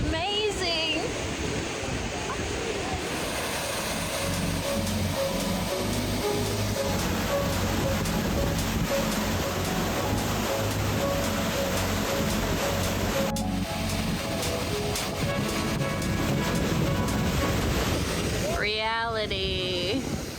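A waterfall in Iceland sends up a steady broad rush of falling water, moderately distant and low in level, mixed with voices and other background sounds throughout.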